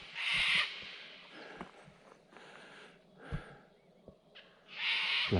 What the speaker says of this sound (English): Bloody cockatoos, geez, they're noisy.